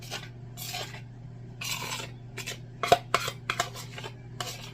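Spoon scraping and clinking against a dish while a mixture is stirred into chopped vegetables and ham for a cheesy potato, ham and green bean casserole, with soft rhythmic rasps and a few sharper knocks over a steady hum.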